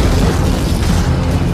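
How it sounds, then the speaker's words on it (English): Sudden powerful burst of sand and water inside a deep undersea rail tunnel under construction, a loud, dense low rumbling roar that fills the whole moment without letting up. "powerful explosion of sand and water"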